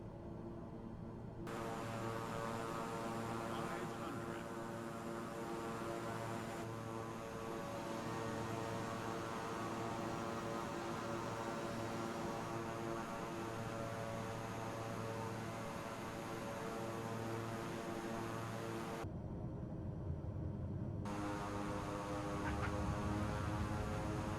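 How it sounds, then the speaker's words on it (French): Steady, loud engine drone of a presidential airplane descending gently toward the runway, an unbroken hum filling the whole stretch with no voices. "L'avion présidentiel entame sa descente en douceur vers la piste d'atterrissage."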